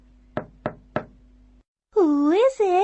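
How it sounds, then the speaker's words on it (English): Three sharp knocks on a wooden door, evenly spaced and close, then a short pause before a voice begins speaking. "He knocked on the door."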